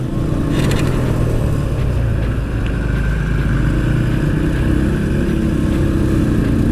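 Motorcycles being ridden on a cold-weather trip to Pavagadh near Vadodara, a loud steady engine drone mixed with heavy wind rush at the microphone, continuous and close throughout.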